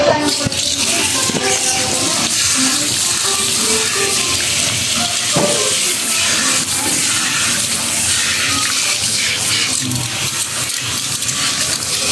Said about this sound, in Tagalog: Warm water po po.